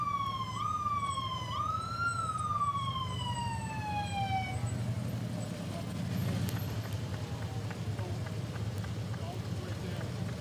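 Police vehicle sirens wail at the Pittsfield 4th of July parade, a loud rising and falling tone that sweeps down and fades after a few seconds, leaving crowd noise and engine rumble with a voice talking.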